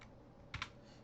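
A few computer keyboard keystrokes, a short cluster of soft clicks including an Enter press, faint and close over a quiet background.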